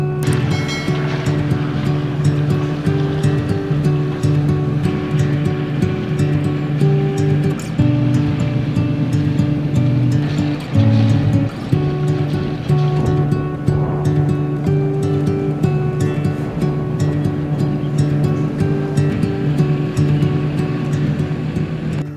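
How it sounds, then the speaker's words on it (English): Open North Sea waves and swell washing around a sailboat under mainsail on the way to Stavanger, a loud continuous rushing wash with a steady low hum beneath, close up and with no voices. "We're getting some waves and the swell out in the open sea now."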